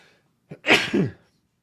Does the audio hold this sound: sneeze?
yes